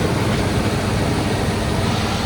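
A van engine runs at a steady idle close by, a constant low rumble and hiss that does not change over the short stretch, with no voices.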